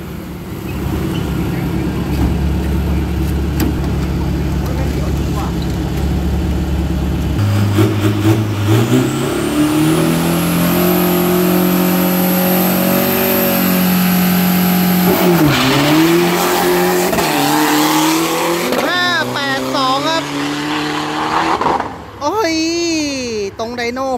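Drag race car accelerating hard down a 402 m straight at a test run in Kamphaeng Phet, Thailand, its engine roaring loud and rising through gear changes, with tire squeal and a commentator talking over it throughout.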